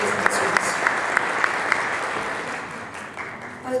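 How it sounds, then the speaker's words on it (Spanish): Audience at an academic talk on food processing and health gives a loud, sustained round of applause, a thick wash of clapping with a few sharper claps, slowly easing toward the end. "Recibamos también con un fuerte aplauso"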